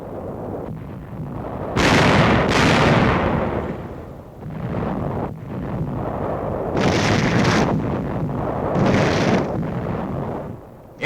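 Small arms and mortar fire in a 1945 war newsreel: repeated heavy booms and bursts of gunfire roll across the whole stretch, loud, dense and somewhat muffled in old recording quality.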